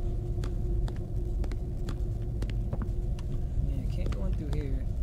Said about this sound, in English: Little choo-choo train running above my big old head.